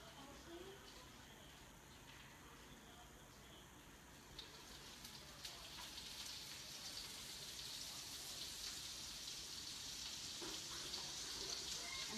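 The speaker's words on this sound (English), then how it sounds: "A nice sizzle there with the butter." Faint, steady crackling sizzle of butter in a pan, growing slightly louder and more continuous toward the end, with no speech.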